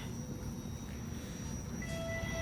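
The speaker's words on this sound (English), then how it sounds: "here comes the westbound train" A Toronto TTC Line 5 Eglinton LRT train arriving at an underground station, a steady low rumble filling the platform with faint high whine tones, continuous and fairly loud.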